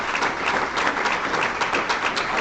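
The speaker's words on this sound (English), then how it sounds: "So let's give that person a round of applause." Warm applause fills a Rotary club meeting room, many hands clapping in a steady, dense patter for a couple of seconds, fairly loud and close.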